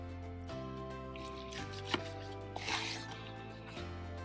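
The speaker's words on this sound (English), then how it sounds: "we're just gonna cut it against the grain" Smoked boneless beef ribs from a pellet grill sliced against the grain with a knife, a few soft, close cuts and dull taps on a board, heard quietly over a steady background hum.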